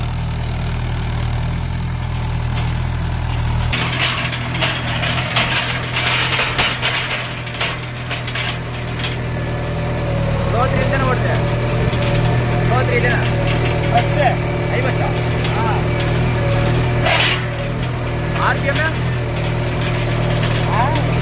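Mahindra 575 tractor engine running steadily while ploughing a field, a continuous low diesel drone close by with people talking over it.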